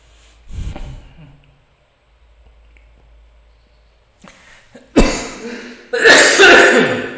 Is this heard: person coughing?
yes